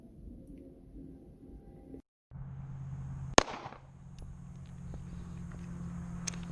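A Smith & Wesson M&P 40C pistol fires reloaded ammunition: one sharp, loud shot cracks out midway through steady outdoor background noise.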